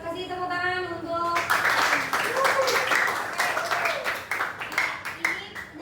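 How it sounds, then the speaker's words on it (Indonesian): A classroom of students claps in a burst of uneven, moderately loud hand claps that follows a brief spoken voice and continues with varying intensity. "kasih tepuk tangan untuk"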